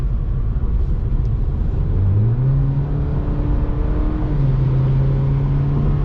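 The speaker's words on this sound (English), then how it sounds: "this thing does have to rev up to do even like moderate daily driving tasks" A 2021 Cadillac CT4-V four-cylinder engine revs up from inside the cabin while driving, a low steady drone that climbs in pitch twice over road rumble.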